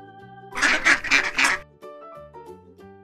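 Four rapid, loud quacks from a cartoon duck in a children's animal-sound game, with light background music tones continuing after the calls stop.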